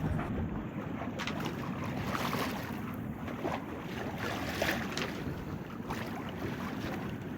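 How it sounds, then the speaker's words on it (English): Sailboat sailing into the anchorage at Bahia Tortugas, heard as a steady broad rush of wind and water around the hull, with buffeting wind on the microphone throughout and no voices. "Sailing all the way into the anchorage."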